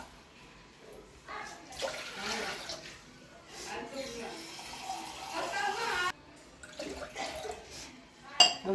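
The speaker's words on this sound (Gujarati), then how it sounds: "આપણે 2 ગ્લાસ જેટલું પાણી મૂકીશું।" Water, about two glasses, is poured into a pressure cooker in a home kitchen while mango seeds are prepared. It comes as uneven splashing bursts with pauses between them, and a voice talks quietly alongside.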